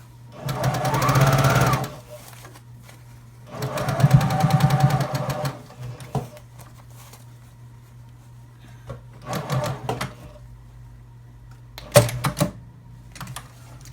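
Domestic sewing machine stitching a fabric water bottle cover, running in three or four short bursts of steady motor whir separated by quiet pauses, close and fairly loud.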